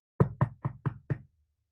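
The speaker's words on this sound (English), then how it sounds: "I guess I better knock on this door instead of opening it with this suddenly silver doorknob" Five evenly spaced knocks on a wooden door in an improvised radio show, sharp and close, quickly rapped in a steady rhythm followed by silence.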